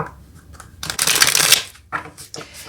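Tarot cards shuffled by hand for a clarifying draw: a soft rustle, then a loud riffling burst lasting about half a second, followed by a few shorter flicks and riffles.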